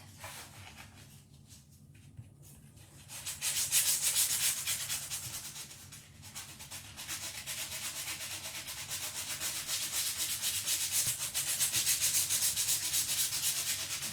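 Hand sanding with 120-grit sandpaper on a painted decoupage piece, a steady close scratchy rubbing that starts quietly, then swells into continuous brisk back-and-forth strokes.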